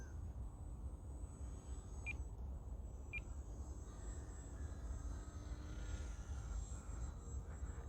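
A small foam RC airplane's electric motor drones steadily at high throttle while the plane hovers. The sound is faint and distant, with two brief electronic beeps partway through.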